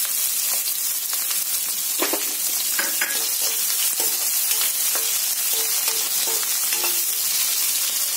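Sliced onions dropped into hot oil seasoned with a pinch of asafoetida (hing) for an Indian suran (yam) sabji, sizzling steadily and loudly throughout, with occasional stirring clinks and scrapes against the pan.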